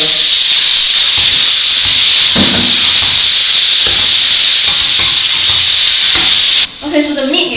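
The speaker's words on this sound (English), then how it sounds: "So first you brown this meat." Half a kilo of beef mince browns in a hot pan with a loud, steady sizzle and hiss that keeps going throughout, easing off near the end under a brief stir.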